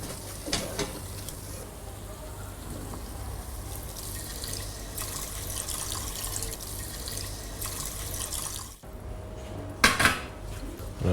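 Milk poured into a pan while making béchamel in a Martinique home kitchen: a steady liquid pour and clinking of pots and utensils runs throughout, close and moderately loud, with a brief sharper clatter near the end.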